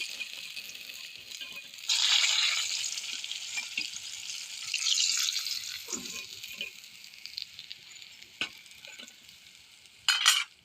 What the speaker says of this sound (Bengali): বাকি মাছগুলো ভেজে নেব। মাছে খুব তেল বেরোচ্ছে।